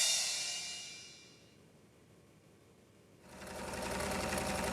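A domestic sewing machine stitches at home in two fast whirring runs, loud at the start, fading to near silence, then running again, close and without talk.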